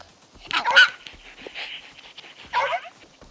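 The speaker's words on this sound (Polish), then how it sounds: "jaki słodki piesek" A small dog gives a few short, sharp barks and yips, one burst early and another near the end, with quieter whimpering in between, fairly close by outdoors.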